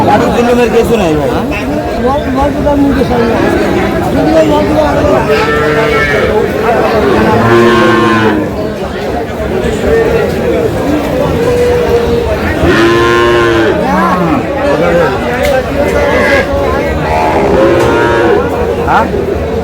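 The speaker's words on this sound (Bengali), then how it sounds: "গাভী বাছুর।" Cows and calves moo loudly and repeatedly at a busy rural cattle market, with long drawn-out calls over constant crowd chatter and people bargaining nearby.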